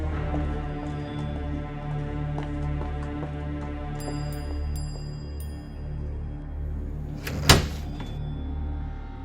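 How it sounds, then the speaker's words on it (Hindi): A door in a haunted mansion swings open on its own, marked by a single sharp thunk near the end over a low, droning, eerie musical bed, with no voices. "दरवाजा फिर अपने आप खुला"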